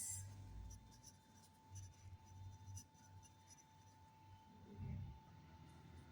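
Pen or pencil writing on paper while working a geometry construction exercise, a soft close scratching in short strokes and pauses, fairly quiet with no talking.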